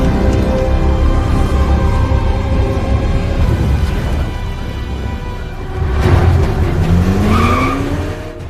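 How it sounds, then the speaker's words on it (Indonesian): Tires squeal and skid during a film car chase on London streets, loud screeching over a revving, roaring engine, with a rising whine near the end. "Aksi kejar-kejaran sengit kembali terjadi di jalanan London"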